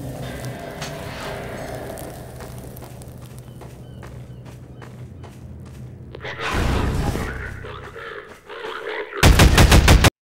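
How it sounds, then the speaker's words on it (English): Combine rifle fire in Half-Life 2, with scattered gunfire through the first part, then a louder swelling burst and a final rapid automatic volley close up at the end. "Yes, the combine rifle."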